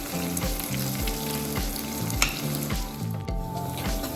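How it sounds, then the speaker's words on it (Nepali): Chopped onion hits hot ghee with fenugreek seeds and sizzles loudly and steadily up close, a dense crackle with faint stirring and no voices. "मेथी पनि फुरेपछि अब तेलमा काटेको प्याजले हाल्नु पर्दछ।"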